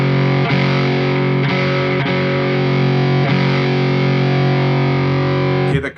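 Electric guitar through an OCD overdrive pedal cranked high: thick, sustained distorted chords struck a few times and left ringing loudly, with no talk.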